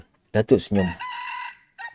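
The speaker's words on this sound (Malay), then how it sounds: "Terdengar pula bunyi kokok ayam." A rooster crows once, a clear drawn-out call that follows a few spoken words and is trailed by a brief final note.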